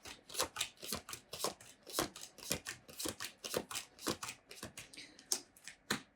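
Rapid crisp riffling of cards, repeated bursts of shuffling with short pauses between, close and clear with no talking.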